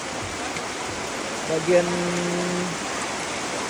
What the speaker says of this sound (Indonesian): Hujan melanda. Hujan deras.